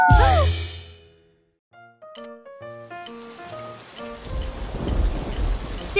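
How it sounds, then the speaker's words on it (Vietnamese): Heavy rain in a Vietnamese children's cartoon opens with a loud crash of thunder. After a short quiet gap, a steady hiss of downpour builds under light, plinking background music. "Hôm nay trời mưa to quá các con à"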